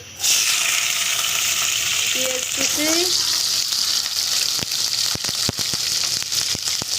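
Loud, steady sizzling of chopped green chilies frying in hot oil in a wok, with a burst of crackling at the start and a few brief clinks from a utensil.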